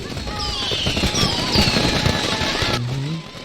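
Fireworks burst and crackle in dense, rapid volleys with whistling rockets streaking up, a loud and continuous barrage in the video game Far Cry 6, fading abruptly near the end.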